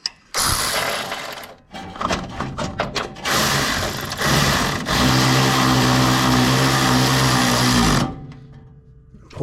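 A right-angle power tool whirs steadily while tightening a drive belt bracket on a Toro TimeCutter mower, running in short bursts at first and then one long continuous run before stopping, loud and close.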